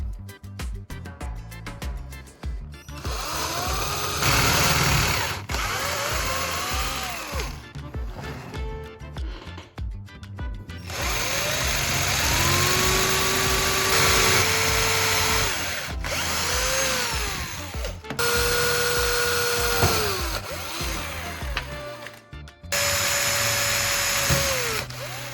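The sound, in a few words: power drill drilling holes in wooden block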